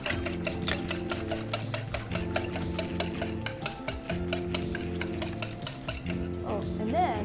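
Ingredients for a French toast pudding being mixed in a bowl, a quick steady rattle of utensil strokes against the bowl, close and fairly loud, with faint background music.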